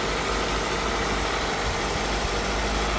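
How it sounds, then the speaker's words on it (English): A Hyundai Ioniq hybrid car engine idles steadily nearby, a constant low rumble with faint vibration and no voices. "So okay, the engine is running."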